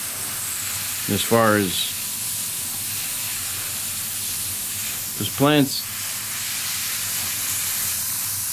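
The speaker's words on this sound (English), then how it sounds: "So let's just give them a little spray." Two short hissing bursts from a spray bottle come a few seconds apart, close up, with a person speaking quietly between them.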